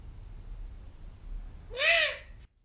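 An owl hoots once in a film scene, a single loud, breathy, drawn-out call rising near the end after quiet low ambience, then abruptly cut off.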